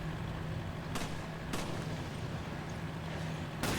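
Gunfire in Resident Evil 5: three sharp shots spaced across the stretch, the last one louder, over a steady low game hum with no talking.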